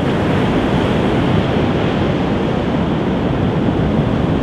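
Ocean waves roll onto the deserted beach at Cap Spartel, Morocco, a steady, loud wash of surf filling the whole stretch with constant broadband roar and some wind buffeting the microphone.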